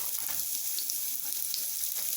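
Onions and garlic sizzling in hot olive oil in a pan: a steady, close, bright hiss of frying that holds evenly for about two seconds, with no talking.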